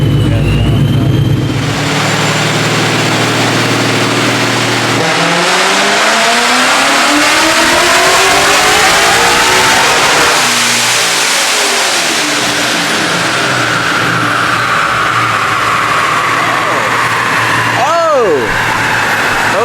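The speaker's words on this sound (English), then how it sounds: "And this is next on the dyno." Cadillac CT5-V Blackwing with its stock supercharger, serviced with a fuel-system repair and retune, revs hard on a dyno, loud and close, climbing through repeated long pulls with a sharp throttle blip near the end.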